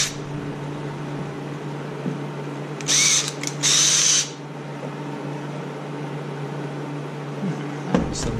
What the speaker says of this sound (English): Drill this one too.